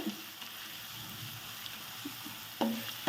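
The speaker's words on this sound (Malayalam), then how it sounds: "വഴറ്റണം ഒരു മിനിറ്റെങ്കിലും വഴറ്റണം കേട്ടോ" Hyderabadi chicken biryani masala paste sautés in a pan with a steady sizzle, faint stirring scrapes and a couple of sharper metallic clinks of a utensil near the end.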